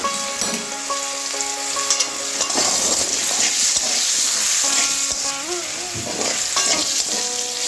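Potatoes frying in a pan, a loud continuous sizzle with occasional stirring and clinks of a utensil against the pan, close up with no talking.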